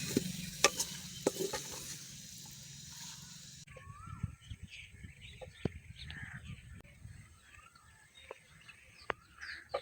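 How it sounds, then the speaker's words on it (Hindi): Minced meat (keema) frying in a pan, with a soft steady sizzle and scattered sharp scraping and stirring clicks. It stays fairly quiet and close, with no talk. "कीमा को अच्छी तरह भूनेंगे।"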